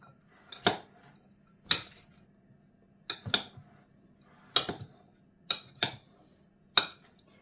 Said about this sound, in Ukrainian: Злегка перемішуємо наш салатик.